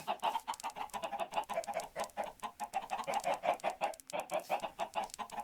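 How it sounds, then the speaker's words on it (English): Minecraft chickens cluck in a rapid, rhythmic stream of short, nasal clucks, fairly close and steady throughout, with a brief pause near the end before the clucking resumes; no talking. "I did have a chicken breakout. That chicken shall live."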